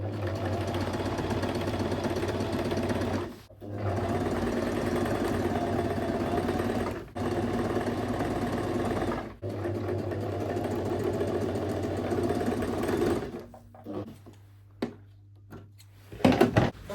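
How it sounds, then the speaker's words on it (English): A sewing machine stitches along a marked line to attach a neckline facing, running in steady whirring bursts with short stops between, then winding down into a few clicks and knocks at the end. "What you have to do is to follow the line on the neck area that I have marked. Just sew along"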